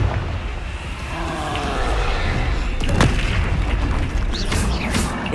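A Confringo explosive spell cast in Hogwarts Legacy, booming blasts over a continuous loud roar of combat noise, with a few sharp bursts toward the end.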